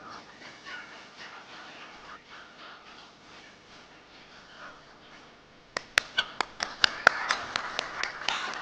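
Clapping from an audience gathered for a team presentation on stage, arriving late as a burst of sharp, distinct claps that grows into a steady patter after a stretch of muffled room noise.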